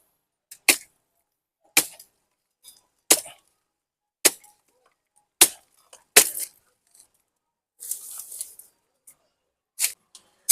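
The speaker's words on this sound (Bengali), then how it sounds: "আগাছাটাকে আমরা কেটে ফেলছি" Weeds being cut around a jujube (kul) tree during an outdoor cleanup, heard as a series of sharp, close snipping or chopping strikes spaced about a second apart, with a brief rustle of foliage partway through and no talking.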